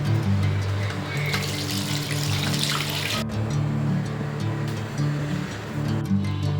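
Water pours steadily into a cooking pot holding goat offal set to boil, a continuous splashing rush that runs nearly unbroken, briefly dipping partway through.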